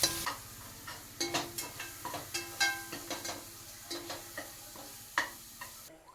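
Garlic and ginger fry in oil for mango pickle while being stirred, a soft sizzle under a steady rhythm of close scraping and tapping strokes of a spoon in the pan.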